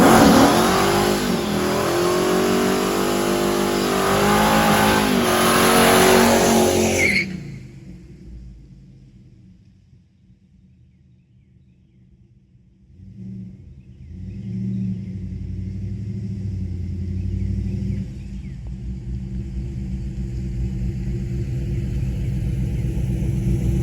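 Hemi-powered Dakota truck with a Silver Sport transmission, a loud close engine roar that cuts off abruptly, falls to a near-silent lull, then builds back into a rising rumbling rev.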